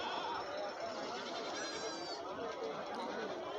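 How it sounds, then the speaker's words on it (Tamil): Goat bleating at a busy livestock market during a Pongal-week goat fair, with a brief, wavering call rising out of dense crowd chatter and voices talking nearby. "பார்த்துட்டு இருக்கக்கூடிய இந்த கிடாயை பாருங்கள் இந்த பொட்டு கிடா தான்"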